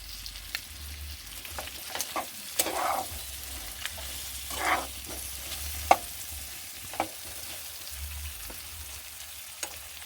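Green chili paste fries in a pan for a vegetarian potato curry, a soft continuous sizzle broken by repeated stirring scrapes and clicks of the utensil, close and quiet with no talking.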